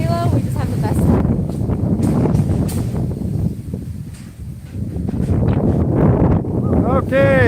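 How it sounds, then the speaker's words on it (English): Strong gusts of wind buffeting the microphone outdoors in Boracay during a storm, a loud continuous roar that swells and briefly eases midway before surging again, with people talking over it. "that's a lot of wind now, but it's just a gust"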